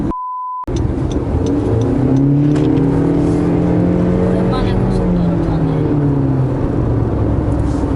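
A 2019 Honda CR-V with a downsized engine and CVT accelerating hard, the engine droning loudly with a steady rising whine inside the cabin after a brief test tone at the start.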